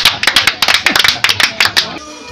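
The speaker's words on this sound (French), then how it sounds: "on l'applaudit" A short burst of lively applause from a crowd at the Paquinou festival in Ando, quick sharp claps in clusters, fairly loud, fading out at the end.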